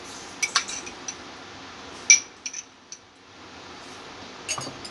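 A spoon tips cumin seeds into a bowl while making homemade Nihari masala powder, giving a few faint, scattered metallic clinks and light taps over a quiet room.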